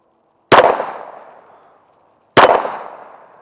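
Two loud, sharp pistol shots from a Shadow Systems MR920 Elite fired at a target about 10 yards away outdoors, each a crisp crack with a ringing decay, spaced nearly two seconds apart.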